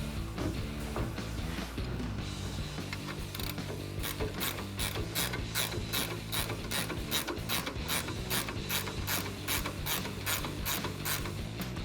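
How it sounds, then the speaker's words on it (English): Ratchet turning a nut onto a 21 mm lower shock bolt during a lift install on a 2012-2018 RAM 1500: a rapid run of close, evenly spaced clicks that steadies into a regular rhythm after a few seconds of mechanical fumbling. "I just ratcheted it a little bit just so I can get the nut started."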